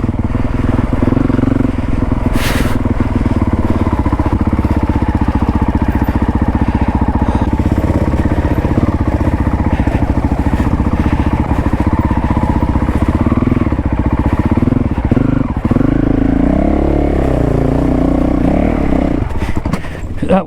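A Honda CRF450L dirt bike runs in second gear on a hardcore fire trail, its engine droning loud and steady throughout with scraping and clattering from the ride, close to the microphone.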